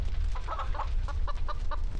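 A chicken in the video game Raven's Cry squawks and clucks while being slaughtered, giving a run of short, agitated calls in quick succession over a steady low rumble.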